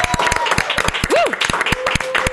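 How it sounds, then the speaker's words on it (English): A small group in a radio studio applauding a food drive fundraising total, with loud, sharp, uneven claps close by and a brief whooping voice rising over them. "I want to have these gentlemen with me applaud and celebrate"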